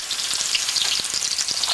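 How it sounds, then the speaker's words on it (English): Steady, bright sizzling of bok choy potstickers frying in hot oil, a continuous crackle with small pops, close and fairly loud. "when you add them, they do immediately start to sizzle and cook"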